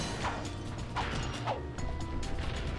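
Lamps being smashed in a video game, a few sharp crash-and-whack impacts roughly every half second over a steady game soundscape with mechanical ratcheting clatter.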